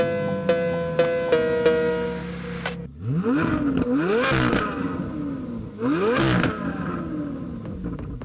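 A 2024 Corvette Z06 with an aftermarket exhaust revs hard in two sharp, rising bursts after a series of clicks and a brief whir, close and loud with a crackling fall-off after each rev.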